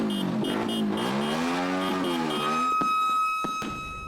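Fire truck sirens at a New Year's street party in Tondo: a loud wailing siren with steady rising and falling harmonic tones, joined by a sustained high electronic tone and a couple of sharp knocks near the end.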